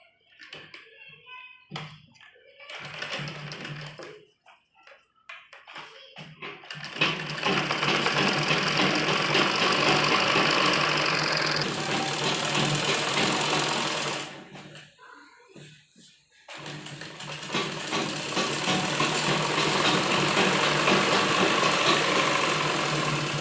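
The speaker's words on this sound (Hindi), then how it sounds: "तो ये मियानी है तो इस पर भी हम इसी तरह से सिलाई लगा देते हैं" Sewing machine running in long continuous stretches while stitching the crotch seam of men's underwear, a steady close whirring broken by short stops, with a voice talking during the quieter gaps.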